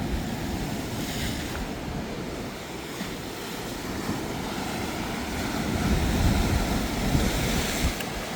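Sea waves roar continuously onto a rocky Portuguese beach, a loud broadband wash with wind buffeting the microphone, swelling heavier in the last few seconds.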